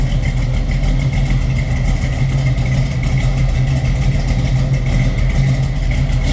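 A 1972 Chevrolet Camaro SS engine idling, a steady, loud, low rumble with an even throb from start to finish, close by and with no talking.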